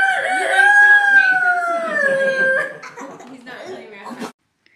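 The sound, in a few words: rooster crowing, called a rare golden-haired cock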